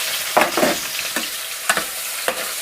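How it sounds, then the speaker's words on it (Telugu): Chopped onions and green chilies fry in hot oil, a steady close sizzle punctuated by several scraping stirs of a spoon in the pan, with no talking. "నూనె అయితే వేడైపోయింది ఫస్ట్ అయితే ఉల్లిపాయలు పచ్చిమిరపకాయలు అయితే వేసేసుకుంటున్నాను"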